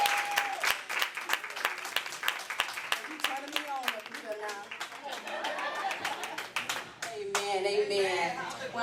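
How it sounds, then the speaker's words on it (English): A church congregation claps at a gospel women's testimony gathering. Sharp, rhythmic hand claps ring out throughout, mixed with music and voices. "Give her a hand clap."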